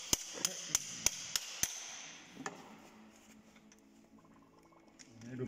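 Six sharp, evenly spaced hammer taps ring out on a Tatra T815 transmission part during disassembly, close and metallic, followed by quieter workshop clatter and voices talking.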